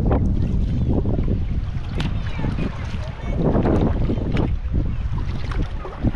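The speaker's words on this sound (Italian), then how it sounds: "ricomincia il vento" Strong wind buffets the microphone while sea kayaking, with a steady roar and gusty rumble throughout, as a voice talks faintly underneath.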